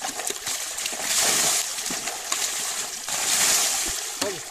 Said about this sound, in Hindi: अब दोस्तों आप थोड़ा सा ट्रैक्टर में पानी डाल देते हैं